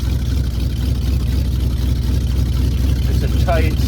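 An RV engine running at high idle, backing out of a barn, gives a steady, loud, low rumble throughout with a brief higher squeak near the end.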